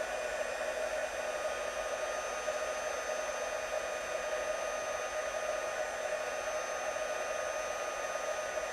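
A heat tool melts embossing powder on a stamped piece held with tweezers, a steady, loud, close hair-dryer-like whir of blowing air that runs unchanged from start to finish.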